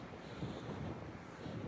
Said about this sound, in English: And the wind's gusting.